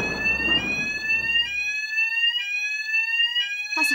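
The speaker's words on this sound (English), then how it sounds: "That's a fire alarm." A fire alarm rings with a steady, piercing electronic tone that pulses in short repeated bursts, loud and close, while a low rumble fades out early.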